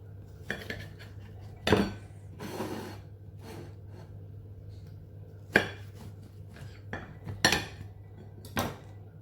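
A knife cutting food for a traditional Kabyle winter dish, heard as a handful of sharp, separated knocks and clatters of the blade on a board or dish, close and spaced apart in a quiet kitchen.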